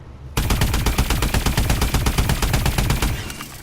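Rapid automatic fire from the AE4 energy weapon in Call of Duty: Advanced Warfare, a loud, evenly spaced burst of zapping shots that starts abruptly and runs continuously for about three seconds before cutting off.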